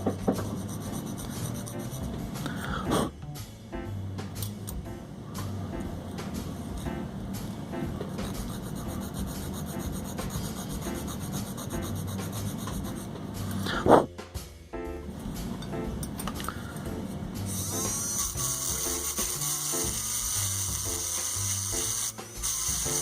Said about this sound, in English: we're going to file down this rivet so that as we hammer it in the rest of the way, it's going to straighten the reed